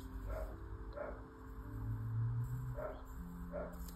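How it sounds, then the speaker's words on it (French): A neighbour's dog barks from some distance, a few separate yips spaced about half a second apart, faint beneath a low steady background hum with no talking. "Paco, le chien du voisin, commence."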